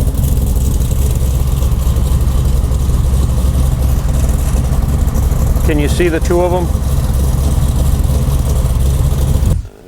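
A supercharged Hemi engine in a 1970 Cuda idles steadily with a deep, lumpy rumble throughout, while a person briefly speaks over it near the end.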